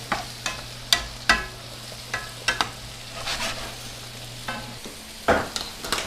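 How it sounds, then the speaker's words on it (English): Winter squash with thyme sprigs being stirred in a pan: a soft sizzle under a series of spoon scrapes and knocks against the pan, about a dozen irregular strokes, close and alone. "we're just going to stir this occasionally"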